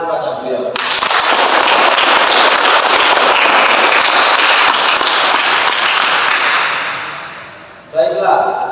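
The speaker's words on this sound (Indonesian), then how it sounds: "Sekali lagi beri tepuk tangan kepada beliau." Loud, sustained applause after a song at a staged Youth Pledge congress of 1928, a dense wall of clapping that starts abruptly, holds for several seconds, then tapers off before a voice returns.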